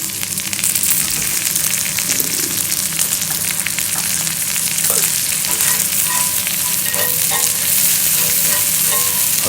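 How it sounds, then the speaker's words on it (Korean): Garlic and rosemary stir-frying in a pan, a loud, dense, continuous sizzle with constant stirring and occasional light utensil clicks, close up and without talk. "그러면은 요때 이제 마늘, 아까 잘라둔 마늘 같이 볶아줍니다."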